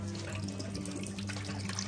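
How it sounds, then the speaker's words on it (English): Coconut water pours steadily into a stew pot of venison ribs for a Vietnamese stew, a continuous watery splashing and trickling at close range with no talk. "We're going to add our coconut water, and we're going to get this stuff cooking."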